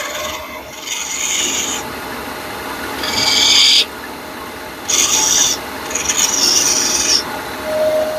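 Woodturning tool touching the end of a spinning wooden piece on a lathe: four short, close rasping scrapes, each about a second long, separated by quieter pauses over a low motor hum.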